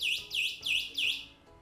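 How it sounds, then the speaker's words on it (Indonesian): A Sunrace Eco electric bike's anti-theft alarm beeping after the bike is shaken, four quick rising-and-falling electronic chirps in a steady rhythm, close and clear with nothing else audible. "Kalau digoyang alarmnya akan bunyi."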